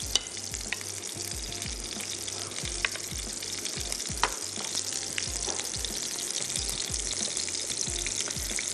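Spinach (saag) sizzles loudly in a pan over high heat. A steady, dense frying hiss continues throughout, with faint low rhythmic thumps underneath and no talking.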